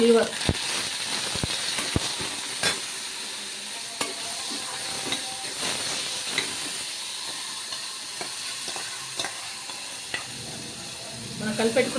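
Goat liver fries in oil in a pan with a steady sizzle, broken by repeated sharp clinks and scrapes of a utensil stirring close by.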